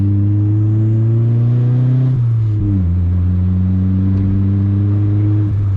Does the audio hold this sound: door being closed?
no